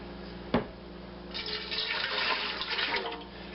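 Homemade laundry soap mixture poured into a big pot of hot water: a knock, then a sustained splashing pour for about two seconds, moderately close, with no talking.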